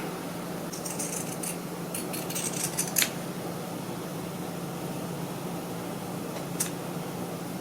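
Scissors snip in a quick cluster of sharp little clicks, then a lone cut later, all faint against a steady background hum while cutting pieces for a DIY mini baby bath.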